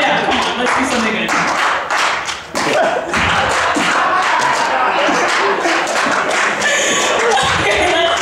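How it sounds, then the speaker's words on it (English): A comedy club audience claps along in a loose rhythmic beat, with loud, busy hand claps and thumps mixed with crowd voices and chatter. "Can I have you guys make me a beat, like clapping?"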